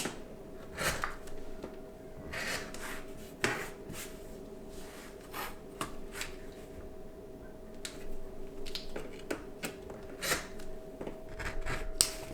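Scissors trimming scrappy quilt block fabric: scattered crisp snips and rustles at an uneven pace, close and quiet over a faint steady hum.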